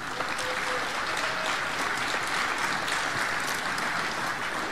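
Audience applause at a stage event honouring a municipal councillor, a dense continuous round of clapping from a sizable crowd, steady and fairly loud throughout.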